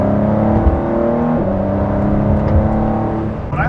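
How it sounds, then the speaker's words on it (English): A 2019 Ford GT supercar engine heard from inside the cabin, loud and close, pulling hard through revs with a brief shift partway through and a rising, raspy tone. "I love the sound. I just think it's fantastic, and it almost feels amplified."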